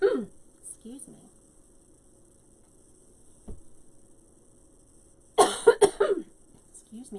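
A person crafting a hat frame coughs indoors, an isolated short cough early on, then a burst of several harsh coughs close to the microphone amid quiet room hum.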